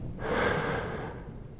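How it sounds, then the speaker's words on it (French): A single deep inhalation during a guided French ASMR breathing exercise, a soft, close, airy intake lasting about a second, then tapering off with no speech. "Reprenez une grande respiration. Allez-y, inspirez."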